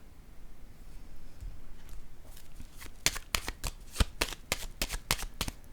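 Tarot cards being shuffled by hand, starting as soft sliding then breaking into a run of sharp, crisp riffles and snaps, close and alone without talk.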